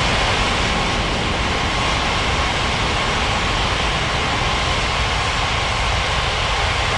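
Airliner jet engines roar through a takeoff in an air traffic control game, a loud, steady, unbroken engine rush with no voices.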